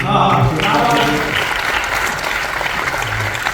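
At a Hindi kavi sammelan poetry gathering, an audience breaks into loud, steady applause for a poet, with a voice speaking briefly over the start.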